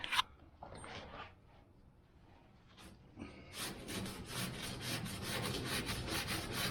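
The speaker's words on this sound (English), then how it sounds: "It's just scuffing the surface basically so it has something to bite onto." Someone scuffs the body surface of a 1969 VW Bug before seam sealing, starting with a few soft scrapes and then steady, rapid back-and-forth rasping strokes close by.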